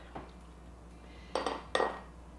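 Spoonfuls of vegan peppermint chocolate mousse are scooped into little glasses, with a faint early tap and then two sharp clinks of spoon on glass, alone against quiet room tone.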